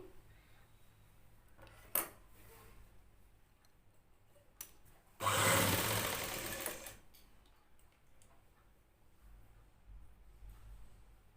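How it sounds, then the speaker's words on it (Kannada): A sewing machine stitches a plain blouse in a quiet room, one short whirring burst of a couple of seconds after a few faint clicks and handling noises, close by. "ಇದೇ ರೀತಿ ನಾವೀಗ ಒಂದು ಸ್ಟಿಚ್ ಮಾಡ್ಕೊಳ್ಬೇಕು"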